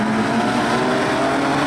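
A pack of eight production sedan race cars at Kingaroy Speedway, Australia, roars off the start of a heat, and loud, dense engine noise rises in pitch as the cars accelerate together.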